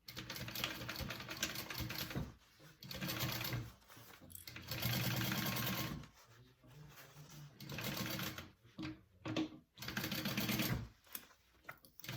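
Sewing machine stitching up the sides of a crossbody bag, running in several loud bursts with short pauses between runs, close to the mic.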